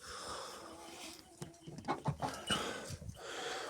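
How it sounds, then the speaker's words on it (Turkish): A backyard flock of around thirty chickens cluck and make soft, wheezy calls, quiet and somewhat distant, in a brief stretch with a low background hum. "30 tane tavuk var arkadaşlar."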